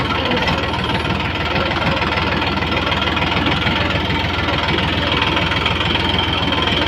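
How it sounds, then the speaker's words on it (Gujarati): Tractor engine labouring in a field of sticky mud, a loud steady knocking rumble that holds constant and close throughout. "જોઈ લો મિત્રો અહીંયા ફસી જતું હતું ટ્રેક્ટર"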